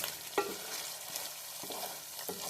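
Chorizo sizzles and crackles on a hot comal as a continuous frying hiss, with a few sharp scrape or stir clicks from a utensil on the metal surface.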